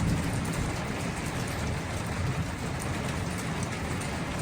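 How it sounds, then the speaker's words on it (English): A thunderstorm with heavy rain pours down in a steady, dense hiss, loud and unbroken throughout. A low rumble may sit underneath, and no voices are heard. "I love the sound of thunder"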